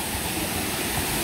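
The Çalkara waterfall rushes in a dense, constant roar of falling water, loud and close for a brief moment.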